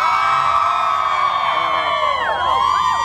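Fans at the Warped Tour festival scream together in a loud, dense, high-pitched wall of shrieks and squeals that swell and waver continuously up close.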